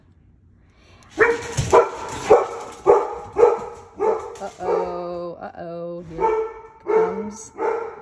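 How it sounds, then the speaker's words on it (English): Several dogs bark in an excited burst inside a home during a paper-crafting session, a run of sharp barks and yips close by with a brief exclamation from a voice at the start. "there goes the dogs"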